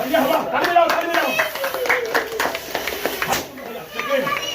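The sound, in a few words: people clapping at a house inauguration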